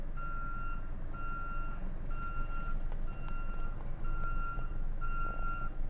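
Reversing beeper on a light vehicle during a mine-site driver test, a regular series of evenly spaced electronic beeps over a steady engine rumble, near and clear.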